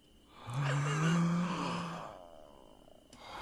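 A person breathes in and out slowly during a relaxation exercise in the game pOnd: one long, soft, sighing breath swells and fades over a few seconds above a faint ambient tone.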